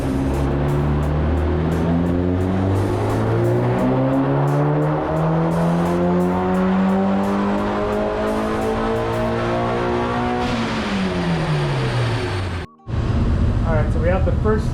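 A tuned Mitsubishi Evo 9 turbo engine winds up through a dyno pull, its loud rising rev climbing steadily for about ten seconds before dropping sharply, a brief cutout, then settling back to idle.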